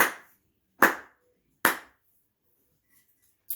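Three sharp single hand claps spaced about a second apart, loud and close, with a fainter fourth clap at the end and no talking.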